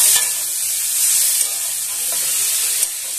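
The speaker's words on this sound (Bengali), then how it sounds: "নুন দেওয়াতে সে নুনটা সব মশলার সঙ্গে মিশিয়ে কষিয়ে নিচ্ছি" Spices stirred and fried with salt in a pan for a Bengali fish curry with pointed gourd and green banana, giving a steady close sizzle with occasional spoon scrapes, no talking.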